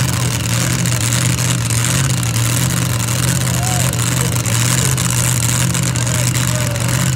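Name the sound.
pulling tractor engine revving at a tractor pull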